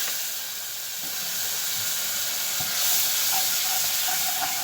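Vinegar and garlic sizzle in a hot pan with a soft, continuous hiss and faint crackles, steady and moderately quiet throughout.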